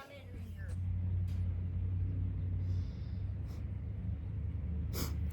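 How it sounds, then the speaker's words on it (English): An SUV passes along a rural road, a low engine rumble swelling and holding for several seconds before easing off, moderately distant, with a few faint knocks and breaths nearby. "seeing an SUV go out the road"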